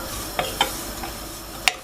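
Red poha roasting in ghee in a pan for payasam, with a soft steady sizzle underneath and a few distinct scraping stirs of the spoon against the pan, the last one sharpest.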